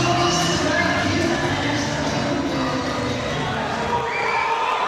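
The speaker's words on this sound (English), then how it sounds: "The crowd are going absolutely wild for him." Dense, loud crowd roar fills a boxing arena as a super middleweight fighter makes his entrance, sustained cheering and shouting throughout with a muffled announcer-style voice blended into the din.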